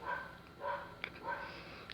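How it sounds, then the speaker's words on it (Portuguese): A dog barks faintly in the distance, about three short barks spaced apart against a quiet background. "Que eu não sei porque o cachorro tá aqui latindo."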